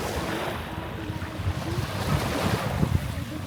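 Strong wind buffets the microphone at Masasa Beach in Tingloy, a constant loud rushing over the low wash of waves, with no talking heard.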